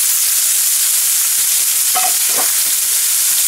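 Mushroom caramelizing in rendered bacon fat in a pan for gourmet hamburgers, a steady close sizzle throughout with a couple of brief stirring scrapes near the middle.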